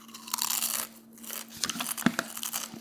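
Close, loud crunching and chewing of a mouthful of Doritos tortilla chips, with sharp crackling bites and wet munching, no talking.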